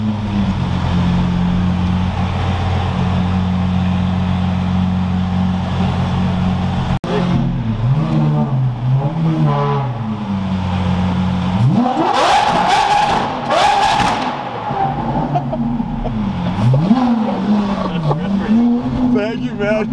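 Loud, throaty engine of a straight-piped Lamborghini Aventador revving while driving, a steady drone that breaks into rising and falling revs, with people talking over it.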